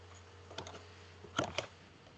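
Quiet taps on a computer keyboard while typing a project name, a few soft keystrokes in two small clusters, close and isolated.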